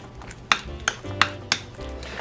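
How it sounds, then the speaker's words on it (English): A tablespoon of spread is mixed into half a cup of cheese for cannoli dip, the utensil clinking sharply against the bowl about four times in a steady, close rhythm over low stirring. "I'm going to mix it into about a half a cup of this cheese"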